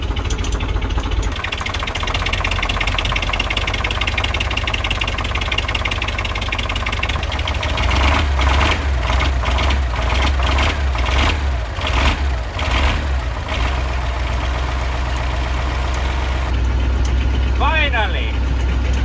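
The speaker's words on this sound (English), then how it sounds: "Half the cylinders are firing." A KAMAZ 6x6 truck engine idles after a cold start in frozen conditions with only half its cylinders firing, giving a loud, rough, uneven diesel rumble with knocking pulses throughout.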